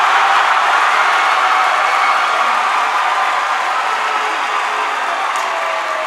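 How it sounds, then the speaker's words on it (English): A basketball crowd at an NCAA Division II women's regional final stands and applauds, a dense, loud, sustained wash of clapping and cheering with no break. "Crowd is on its feet."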